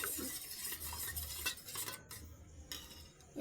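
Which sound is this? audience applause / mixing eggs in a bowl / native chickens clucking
mixing eggs in a bowl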